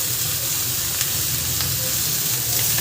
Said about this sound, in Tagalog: Ilagay ko na rin yung sibuyas at bawang.